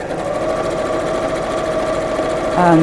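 A sewing machine runs steadily, joining two fabric pieces with a quarter-inch seam, a close continuous whir that picks up slightly at the end.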